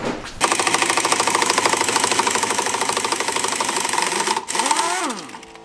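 An impact wrench removes bumper bracket bolts from an XJ, giving a loud, rapid hammering rattle that runs steadily for several seconds, pauses briefly, resumes, then winds down.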